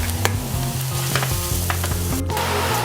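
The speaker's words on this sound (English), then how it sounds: "So as my mushrooms are cooking down," Mushrooms sautéing with dried celery flakes in a pan give a steady close sizzle and crackle, with a few sharp clicks of stirring scattered through.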